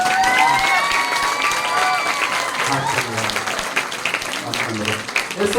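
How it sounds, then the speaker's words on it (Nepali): Audience applause at a Christmas award handover in a church assembly, with claps rising loud then settling, a cheering crowd and some voices talking over it. "हामीले ताली बजाउनेछौँ"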